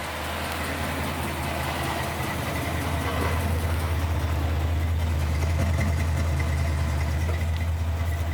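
A Chevrolet Nova's engine idling outdoors, a deep, steady rumble with a strong low throb that holds constant and grows slightly louder, with no talk over it.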